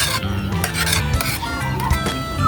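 Creamy spaghetti is stirred in a pan with a utensil, scraping and clinking against the metal in a continuous, close rhythm, with some faint background noise.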